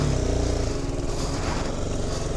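BMW G310R motorcycle engine while riding: a steady, close, even single-cylinder drone with a smooth pulsing beat under wind rush, no talk.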